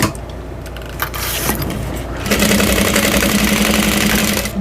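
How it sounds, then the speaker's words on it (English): A sewing machine bastes fabric for a bowler bag, starting with some handling noise and short bursts, then running in a loud, close, steady stitching whir for the final couple of seconds. "And then I'm going to turn around and baste all of this together."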